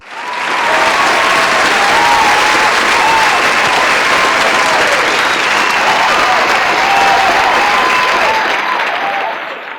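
A large crowd bursts into sustained cheering and applause, loud and dense, with whoops and shouts rising over the roar and holding for several seconds before easing slightly.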